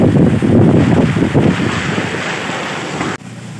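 Sudden strong wind on a road during Typhoon Kristine in Aklan roars and buffets loudly against the microphone, gusting for a few seconds before cutting off abruptly.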